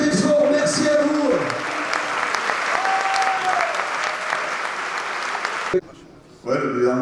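A crowd at a rugby club's season squad presentation in Bayonne applauds loudly and steadily, with voices and music mixed in, before the clapping cuts off abruptly near the end and other sound briefly resumes.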